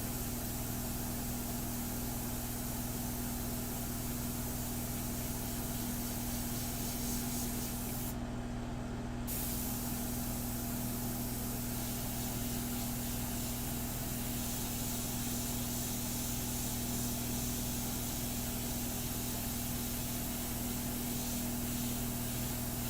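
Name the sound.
airbrush spraying India ink on a portrait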